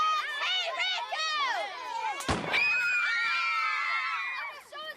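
A sharp, single gunshot effect in a staged colonial-era news skit cracks out midway through a crowd of shouting and screaming voices that carries on around it.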